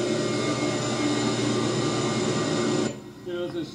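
Large energy-efficient blowers supplying air to a wastewater treatment plant's aeration system give off a loud, steady machine roar with tonal hum, dropping away sharply near the end.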